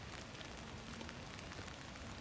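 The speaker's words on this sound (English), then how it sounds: "The rain lightened up a little bit." Light rain falling outdoors during a river running event, a steady, even hiss of patter with no voices.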